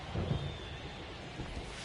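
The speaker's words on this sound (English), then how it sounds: "the field's not going to be able to hold up if the rain gets any worse than this" Steady rain hiss in MLB The Show 23 during a Nationals vs Mets game, a broad continuous wash with a couple of low rumbling swells near the start, no voices.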